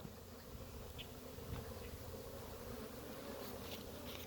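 Honey bees buzz steadily at a beehive, a dense, continuous hum of many insects close by with no break across the whole stretch.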